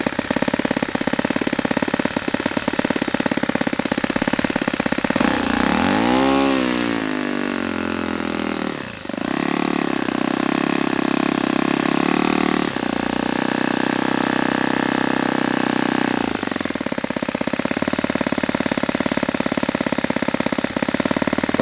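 Saito FA-91S four-stroke model aircraft engine run close by, loud and continuous, with the revs dropping and sweeping before it settles toward a low idle around 2,000 RPM, then picking up again, with no talk.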